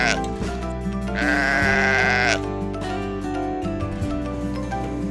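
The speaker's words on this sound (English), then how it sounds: "Sheep, sheep." A sheep bleats loudly in one long wavering cry, close and prominent over steady background music.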